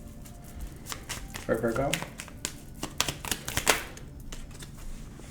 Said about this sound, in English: We're going to pull you a fortune card